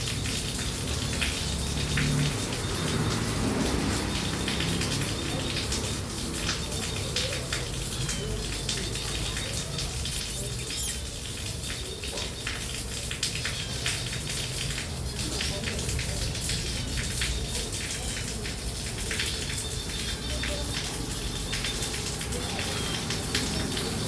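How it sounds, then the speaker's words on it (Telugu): Heavy monsoon rain pours steadily outdoors where tailor birds are feeding their chicks, a dense continuous hiss and patter of drops on surfaces that fills the whole stretch without pause. "ఎంత పెద్ద వర్షం పడుతుందంటే అసలు."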